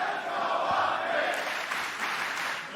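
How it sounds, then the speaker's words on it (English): A live crowd at a Call of Duty League 2023 Major esports tournament cheers in a steady, loud roar that holds for a few seconds, with no talk over it. "Crowd getting riled up."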